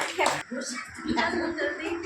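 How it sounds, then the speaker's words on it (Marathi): Hands clap at a grandmother's 96th birthday celebration, short quick bursts of applause mixed in with voices and lively chatter close by. "टाळ्या टाळ्या टाळ्या टाळ्या एक नंबर एक नंबर"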